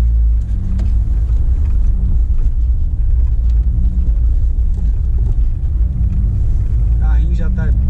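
Ford Fiesta 1.0 turbo pulling away on a street, its low engine rumble steady and close throughout, with voices talking over it.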